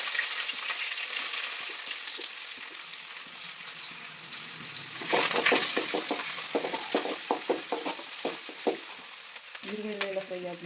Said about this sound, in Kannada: ಎಣ್ಣೆ ಹಾಕ್ಮೇಲೆ ಈರುಳ್ಳಿ ಹಾಕ್ತಾಯಿದ್ದೀನಿ.